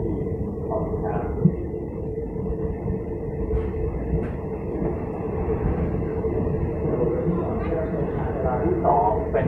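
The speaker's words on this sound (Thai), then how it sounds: "ขบวนรถเร็วเที่ยวรอบขบวนที่136เมื่อออกจากสถานีห้วยทับทันแล้ว" A train rumbles steadily along the rails, with a low continuous roar and faint clacks, and a voice announces over it, as a Thai State Railway rapid train departs Huai Thap Than station.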